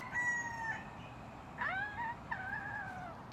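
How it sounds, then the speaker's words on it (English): Roosters crowing in the morning in Miami, Florida, with a few harmonic calls rising and falling a short distance away against steady background noise. "Hear that? Roosters."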